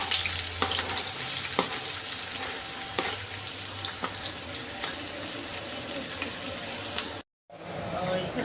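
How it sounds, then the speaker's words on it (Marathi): Chopped onions fry in hot oil for a pav bhaji tempering, a steady loud sizzle with scattered pops and stirring scrapes, briefly cutting out near the end before resuming. "आता मी पावभाजीला फोडणी देते। सगळ्यात आधी कांदा टाकून घेते।"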